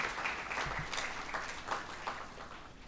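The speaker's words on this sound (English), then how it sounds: "Huge round of applause and congratulations to everyone who has contributed this event to be success." Scattered applause from the audience at an institute's Foundation Day commemoration, somewhat faint and uneven, with a few distinct louder claps standing out.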